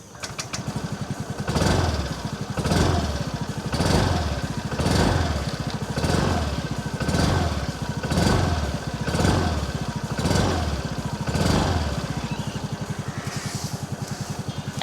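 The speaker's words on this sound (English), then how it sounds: "let's listen to the exhaust sound of this Fascino" A Yamaha Fascino 125cc hybrid scooter engine idles and is revved repeatedly, rising and falling about once a second in a steady, buzzy rhythm, close to the exhaust.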